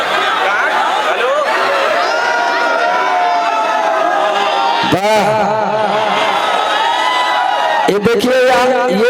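Festive crowd at a public welcome event in Baddupur, Uttar Pradesh, for actress Rani Chatterjee, a loud continuous wash of voices, chatter and cheering with bursts of louder excitement, close and dense throughout.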